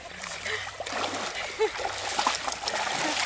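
Water splashes and splatters during an outdoor dare challenge, irregular wet bursts mixed with voices talking and reacting.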